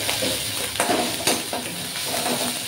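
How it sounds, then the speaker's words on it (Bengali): Onions sizzle in hot oil with salt, turmeric and chili powder, a steady close hiss broken by a few brisk scraping strokes of the spoon. "আরও পেঁয়াজটা সুন্দর করে ভাজা হয়ে গেল।"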